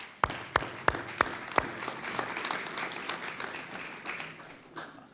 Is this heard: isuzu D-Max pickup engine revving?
no